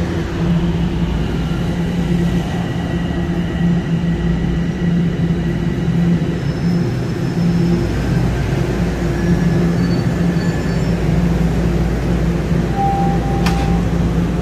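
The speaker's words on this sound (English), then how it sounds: "magtitake ako ng train papunta sa main station" Continuous low rumble and rattle of a train rolling along rails, heard from inside, steady throughout with a faint high tone near the end.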